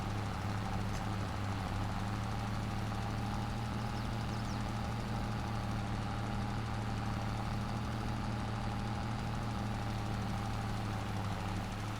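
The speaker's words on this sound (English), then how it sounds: "so far this tractor's pulling it just fine" A 175-horsepower tractor in Farming Simulator, its engine pulling a load with a steady, even low drone, close and continuous with no talk over it.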